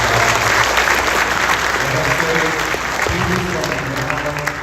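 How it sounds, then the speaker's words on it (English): Sustained crowd applause at a high school freshman orientation for a staff member, loud and continuous throughout, with voices talking underneath in the second half. "Let's clap it up for Mr. McClure."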